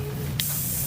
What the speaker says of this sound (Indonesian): Semprotkan ya.